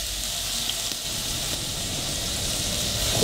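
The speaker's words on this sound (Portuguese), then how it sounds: "agora eu vou vir com a cebola que está picada" Chopped onion fries in hot melted pork lard in a pan, giving off a steady, close, even sizzle and hiss with no pauses.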